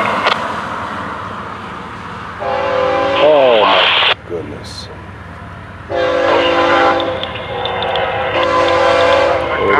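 An FEC109 freight train works into the rail yard, its horn sounding in loud sustained blasts with a shifting, bending tone, separated by quieter stretches of rumbling rail noise.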